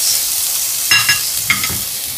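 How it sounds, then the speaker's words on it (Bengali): Onions fry in butter in a kadai wok, a steady bright hiss of sizzling held close throughout, broken by a couple of short stirring scrapes and clinks midway. "এবার আমি পেঁয়াজটাকে ভালো করে লাল লাল করে আমি ভেজে নেব।"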